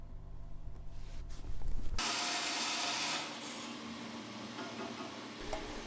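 A section of boost pipe for a Nissan Skyline R32 GT-R is trimmed during fabrication: a low rumble gives way abruptly to a harsh, steady cutting noise that carries on close by until the end.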